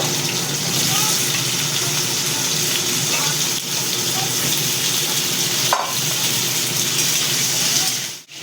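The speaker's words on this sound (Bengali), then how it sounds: "এই তেল দিয়ে হালকা করে ভেজে নেব।" Chayote lightly frying in oil in a pan, a continuous broad sizzling hiss held close and fairly loud, with a couple of brief clatters and a sharp drop at the very end.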